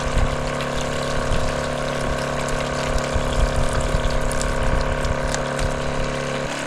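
Steady gushing water runs continuously with a faint mechanical pump hum underneath, close and unbroken, no voices.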